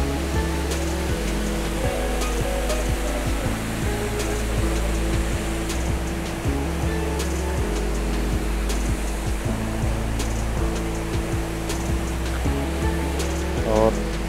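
Water rushes through opened gates at Sarfa Dam, a continuous broadband roar that stays steady and fairly loud for the whole stretch, with faint tonal sounds layered over it.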